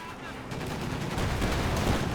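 A StuG assault gun firing in Company of Heroes 2 amid a dense wartime battle din, with rumbling gunfire and blasts blending into a continuous loud roar.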